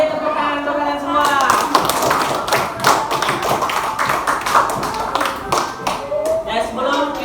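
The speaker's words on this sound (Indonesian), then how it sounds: "Beri tepuk tangan untuk kalian semua." Students in a classroom applaud together in a dense, lively patter of handclaps and taps lasting several seconds, with voices calling out over the clapping.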